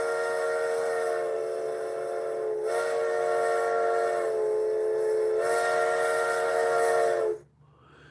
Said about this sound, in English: That is the sound of the train